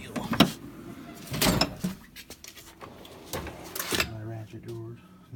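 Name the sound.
Snap-on tool box drawer opening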